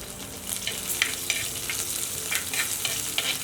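Crushed garlic and dried red chilli frying in hot oil, giving a close, continuous sizzle broken by repeated bright scraping bursts as the pan is stirred.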